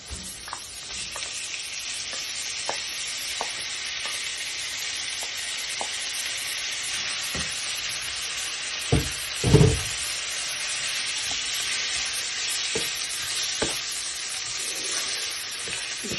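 Chicken pieces for fajitas sizzling in a hot pan, a steady bright sizzle punctuated by repeated scrapes and knocks of stirring, with a couple of louder low thumps midway.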